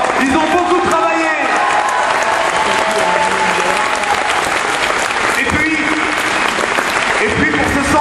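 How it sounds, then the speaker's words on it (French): An audience at a village centenary show in Eloyes applauds the performers loudly, with dense sustained clapping, whoops and cheers rising throughout and voices calling out among the crowd. "je vous demande de les applaudir très très fort encore"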